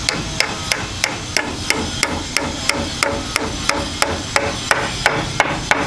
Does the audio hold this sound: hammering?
yes